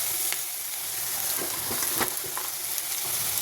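Shredded cabbage frying in hot oil with green chillies, a steady close sizzle with crackling pops and occasional stirring clinks, continuous and alone.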